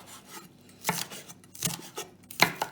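A knife chops an onion on a board with a rocking motion, giving a handful of soft, close, irregular thuds and scrapes with quiet pauses between them.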